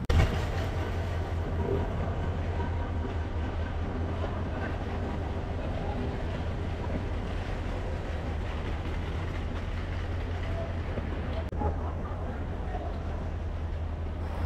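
Brahmaputra Express on the Dhaka to Mymensingh route at a station among rows of standing trains, giving a steady low idling hum and background rumble throughout, moderately faint with no clear talk.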